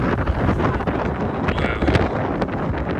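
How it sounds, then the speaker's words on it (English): Heavy wind at Hoover Dam roars steadily across the microphone, a loud unbroken rumble with brief gusty swells and no clear speech. "It's really windy."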